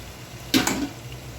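Cut jackfruit seeds and young taro stolons drop into a pan of spiced masala for a shrimp and dried-fish curry, giving a brief sizzling splash and stir around half a second in, then quiet.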